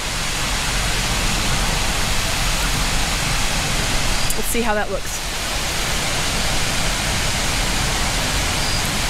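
Brandywine Falls in Cuyahoga Valley National Park at dusk, a steady broad roar of falling water filling the scene, with a brief voice speaking over it midway.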